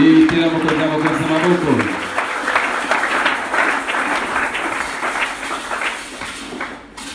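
A church congregation bursts into loud applause and acclaiming cheers, a dense wash of clapping that swells after a brief sung or spoken phrase and then gradually tapers off.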